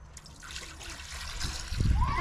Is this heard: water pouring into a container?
yes